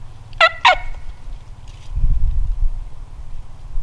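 Wild turkeys in a Michigan front yard near a pond, two sharp close chirp-like calls followed by a low rumbling, wingbeat-like stretch, with faint outdoor background.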